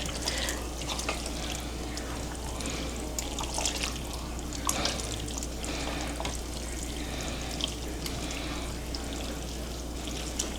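Water splashes and patters in a kitchen sink during dinner prep, with irregular clinks and drips over a steady running flow, fairly close and without talk.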